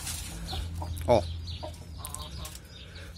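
A hen in a backyard hobby pen clucks a few times at close range, with one louder squawk partway through and soft farmyard background noise. A person makes a brief short utterance.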